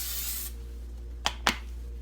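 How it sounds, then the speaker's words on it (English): A short hissing burst of cooking spray oil coats the inside of a slow cooker, followed by two sharp clicks against a low background hum. "I need to actually spray the slow cooker with a light coating of spray oil"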